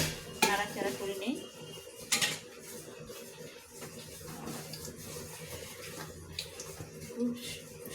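Bay leaves and garam masala are stirred in a cooking pot, producing close, irregular metallic clinks and scrapes of a utensil against the pot over quiet kitchen background.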